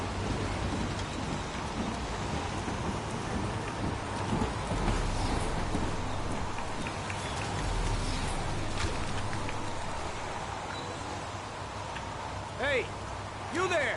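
Steady, heavy rain pours throughout the Heavy Rain video game scene, with low rolling thunder rumbling beneath it and faint voices in the background.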